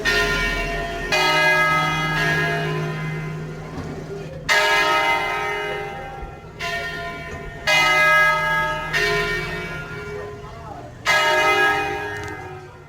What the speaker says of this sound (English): And now for some random church bells, which we heard so often in Italy.